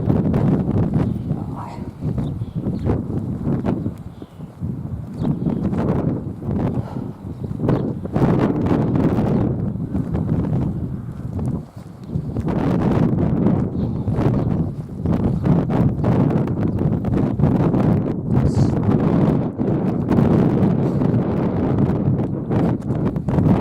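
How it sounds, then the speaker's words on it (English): Wind on the Northumberland coast roars across the microphone in loud continuous gusts, with brief dips and faint movement noises underneath. "The wind's just going to get worse as we go."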